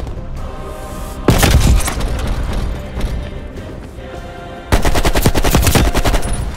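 Rapid submachine gun bursts in Call of Duty Black Ops Cold War online multiplayer, two loud sustained volleys of fast automatic fire with clattering over a busy game mix, no talk.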